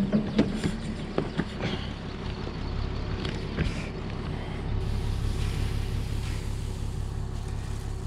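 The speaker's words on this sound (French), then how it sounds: "Faire chauffer un peu le tracteur" A farm tractor's engine idles while warming up, a steady low rumble with some clunks and rattles near the start, then an even drone that grows slightly fuller.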